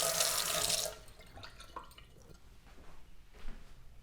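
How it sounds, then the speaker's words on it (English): A kitchen tap runs as a fork is rinsed under it, with a loud burst of spraying water at first, then softer trickling and clinking for the rest, no voices. "Okay, I'm gonna rinse my fork."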